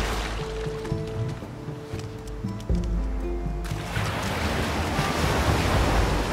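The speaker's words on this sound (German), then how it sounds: "Oh, jetzt kommt das Wasser rein." Water surging and rushing in across a shoreline in the video game Unravel, a steady wash of surf-like noise that swells louder partway through over a soft musical backdrop, with no talking.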